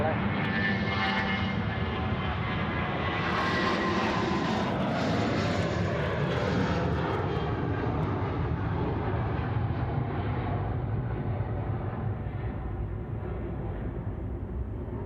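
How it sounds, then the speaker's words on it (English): A Jetstar airliner departs runway 34 right at Sydney Airport, its jet roar loud and broadband throughout, building and then slowly fading as it climbs away, with voices talking over it. "perhaps this looks like it's going to be the last departure, which is our Jetstar friends off runway 34 right"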